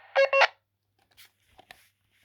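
A quick pair of electronic beeps, followed by faint short chirps and clicks from a handheld Baofeng walkie-talkie radio, then silence.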